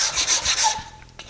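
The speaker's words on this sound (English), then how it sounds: "drop it on this 150 grit, give it a few swipes to smooth up those faces" Wooden block rubbed across 150 grit sandpaper in a few quick back-and-forth swipes, a close, dry rasping scrape that trails off at the end.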